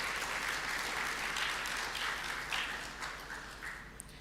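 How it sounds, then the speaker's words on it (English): Conference audience at a mine action event applauds a departing guest, Mr. Haji, with steady, moderately faint clapping from many hands that thins out slightly toward the end. "I would ask you to give a round of applause to him before he goes."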